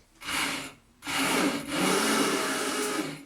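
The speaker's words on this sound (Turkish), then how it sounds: "son kez blenderım yardımıyla karamel sosunun da iyicene karışmasını sağlıyorum" Blender whirring in short bursts while mixing caramel sauce into cold coffee, close and loud: a brief run, a pause, then a longer steady spin with a slight dip midway.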